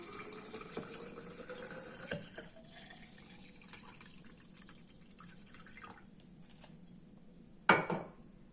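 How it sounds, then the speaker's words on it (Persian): Water is poured over fruit, lemon and ginger in a glass container to make detox water. Quiet trickling and dripping run throughout, broken by a couple of sharp glassy clinks. "میوه ها رو میریزیم، بعد آب رو میریزیم."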